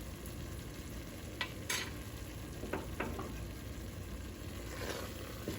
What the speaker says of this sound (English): So now we can mix the garam masala with the curry.